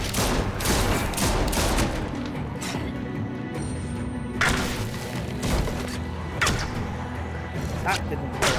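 Gunfire rings out in Telltale's The Walking Dead: The Final Season video game, with sharp shots and impacts over a dense, continuous game soundtrack while a person talks.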